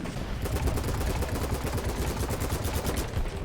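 Rapid automatic AK15 rifle fire in the shooter game BattleBit Remastered, a dense continuous burst of loud close shots cracking in quick succession for several seconds without pause.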